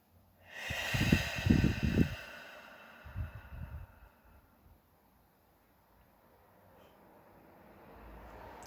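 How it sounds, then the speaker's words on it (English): A person takes a deep, audible breath in through the nose and exhales with a long sigh, close and clear, followed by quiet. "So how about we take a deep breath right now?"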